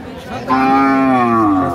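A four-tooth local cow at a busy cattle market lets out one loud, close, drawn-out moo after a short stretch of faint crowd murmur.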